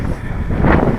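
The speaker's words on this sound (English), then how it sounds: "the wind's gusting" Gusty wind buffets an outdoor flying field, a broad rumbling roar that swells and peaks partway through, close to the microphone and without speech.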